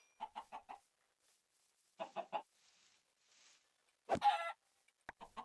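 Minecraft chickens cluck in short rhythmic bursts, first a run of four quick clucks, then three more, followed by a louder drawn-out squawk and a final brief cluck, close by with quiet gaps between.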